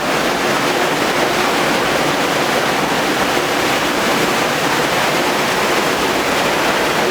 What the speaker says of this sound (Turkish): Su sesi çok hoş bir ses. Evet, şu an o kanalda su ilerliyor.